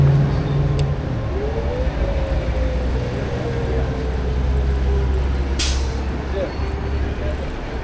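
A city bus on Main Street in Santa Ana gives a sharp hiss of its air brake over a continuous low engine idle and road rumble, with traffic noise around it.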